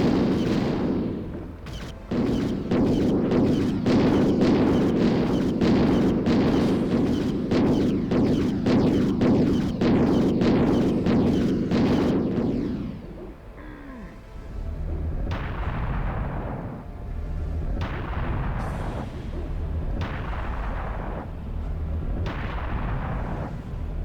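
Rapid heavy gunfire from Serious Sam pounds in a fast, loud, steady rhythm for about twelve seconds, then gives way to slower, spaced booming shots with echoing tails.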